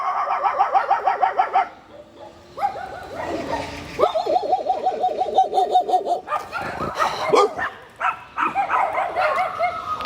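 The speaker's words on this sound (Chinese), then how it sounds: "东边一波狗叫，西边一个狗叫，中间一叫。" Several dogs bark repeatedly from different directions outdoors, rapid overlapping volleys close by with some farther off, mixed with yips and brief whimpers.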